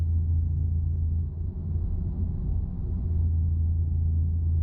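A truck engine in Euro Truck Simulator 2 drones at a low, steady pitch while driving, a constant close rumble with a brief dip in level before it settles back to the same hum.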